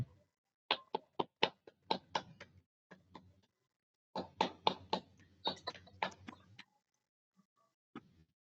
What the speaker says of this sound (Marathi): त्यांच्यासाठी आपण जोरदार टाळ्या वाजवूया